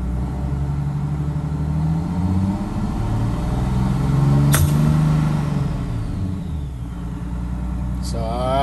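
A vehicle engine with an air throttle fault idles and revs, a low rumbling drone swelling as the pedal is pressed and then falling away on release, with a sharp air hiss midway.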